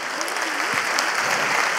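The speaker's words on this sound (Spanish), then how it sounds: "Un aplauso grande" Audience applause at an awards ceremony for forestry industry workers, a steady wash of clapping from a crowd with voices faintly mixed in, continuous for the short stretch.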